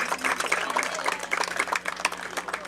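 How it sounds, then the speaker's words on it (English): A crowd claps and cheers in steady, dense applause for a few seconds, fairly close and lively, at a Little League baseball state championship. "Let's give them a big round of applause."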